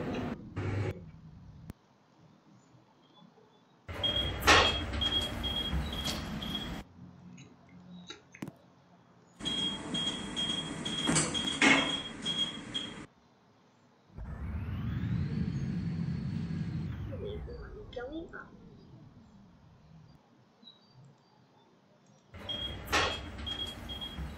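Goldstar elevator doors at Block 491 Robloxian Bridge Road sliding shut in a Roblox game, a whooshing, falling motor sweep mid-clip between bursts of loud electronic chime and buzzing noise, with no talk.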